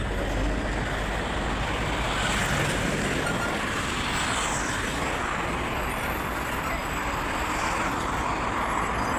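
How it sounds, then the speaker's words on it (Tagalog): Steady, dense road traffic roars past at close range on a busy street, with heavy vehicles such as a truck with a trailer among the many cars, a continuous loud rumble with no pauses. "Medyo maraming sasakyan, kaya tingin-tingin muna tayo bago tayo tumawid."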